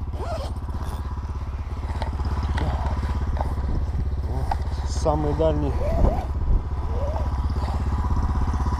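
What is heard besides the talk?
PROMAX SRX 700 snowmobile engine idling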